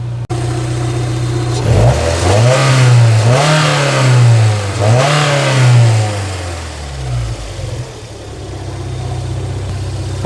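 A Toyota MR2 SW20 with its 3SGE engine, freshly repaired of a misfire, idles and then revs up in two rising-and-falling sweeps, loud and close, before settling back to a steady idle.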